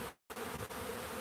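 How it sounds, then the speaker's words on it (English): Honeybees buzzing loudly and agitated at a backyard hive after a likely new hatch, a dense continuous drone close by with one brief dropout. "they're buzzing pretty crazy"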